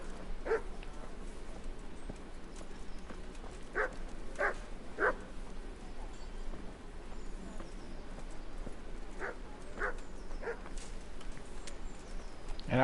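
Dog barking in the medieval video game Kingdom Come: Deliverance: several short, sharp barks, some in quick pairs, at moderate distance over a steady ambient bed, with possible hoof clopping nearby.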